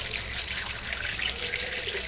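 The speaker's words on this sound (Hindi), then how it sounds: "चलिए हम अपनी सब्ज़ी धोते हैं।" Tap water runs steadily in a home kitchen as vegetables are rinsed under it, a close, constant hiss of flowing water.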